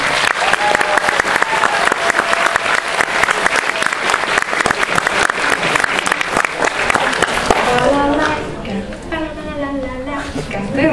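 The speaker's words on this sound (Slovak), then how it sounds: "ešte raz veľký potlesk, ďakujeme" Audience applause at a convention dance performance, a dense steady clapping that fills the room for about eight seconds before thinning out, with a few voices and cheers rising as it fades.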